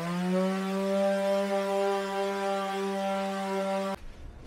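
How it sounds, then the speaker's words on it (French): Power sander running steadily on a wooden floor of a work-site plank floor in a camper van build, a loud continuous whine with strong harmonic tone, cutting off abruptly near the end. "Je ponce le plancher qu'on a..."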